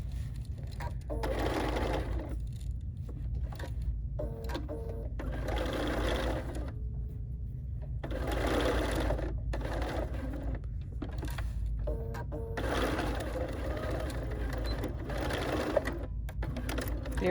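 Sewing machine stitching a bridal veil with blusher, running in steady rapid bursts separated by short pauses as the presser foot is lifted to pivot, close and continuous over a low hum, with quiet talk at times.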